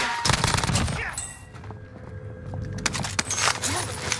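Rapid bursts of nail gun fire in a Call of Duty match, sharp repeated shots in quick clusters over game effects and background noise, loud and close.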